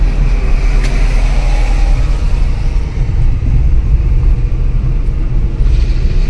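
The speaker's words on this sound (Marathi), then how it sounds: "गाडी चालवत आहे।" Car cruising along a Mumbai highway, steady low road and engine rumble with tyre noise filling the whole stretch, continuous and close with no talk.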